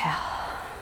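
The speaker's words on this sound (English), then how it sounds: "And exhale." A soft, airy exhale during a guided stretching breathing exercise, one short close breath out that fades quickly.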